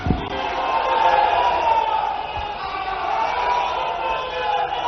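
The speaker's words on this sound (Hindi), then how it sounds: "जोरदार तालियों के साथ अभिनंदन करें आदरणीय श्री अमित" Large crowd at a political rally in India greeting Amit Shah, a steady, loud wash of cheering and clapping with voices mixed in, sustained throughout with a thump near the start.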